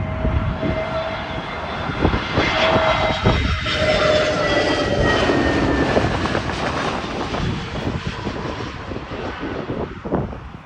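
An airliner comes in to land at Heathrow Airport, its engines giving a loud, steady roar that fills the whole stretch and fades slightly toward the end.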